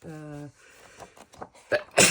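After a brief voice and some soft breathy sounds, a sharp, loud sneeze bursts out at the end, close by.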